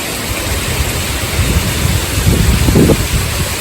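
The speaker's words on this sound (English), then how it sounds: "Oh my goodness, this wind." Strong gusty wind blows outdoors just after a rainfall, a loud steady rush of broadband noise buffeting the microphone and swelling in strength toward the end, with no voices.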